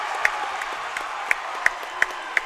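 Crowd clapping at a high school basketball game, scattered hand claps and a low, steady murmur of spectators in a gym, with a few sharper claps standing out.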